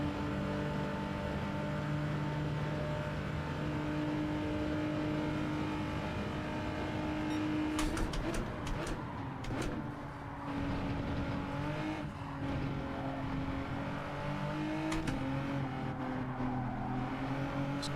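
A race car engine in Gran Turismo 7 drones at low revs with steady tonal hum, then rises and falls through gear changes and revving bursts, with brief tire squeal and clatter around the middle.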